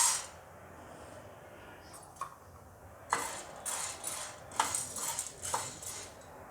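Black peppercorns tumble into a pan for roasting sambar masala, bright metallic clinks and rattles at first, then a run of scraping, clattering stirs that grow louder toward the end, heard close with no talking.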